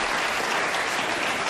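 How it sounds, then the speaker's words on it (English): A television studio audience at The Tonight Show Starring Johnny Carson breaks into dense, sustained applause, close and steady for the whole stretch with no voices over it. "Applaud. People who've seen me before."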